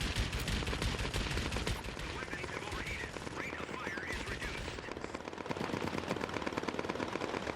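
Rapid bursts of 20mm cannon fire from a Mitsubishi A6M1 Zero in the World of Warplanes game, dense chattering volleys over a constant engine drone, loud and continuous.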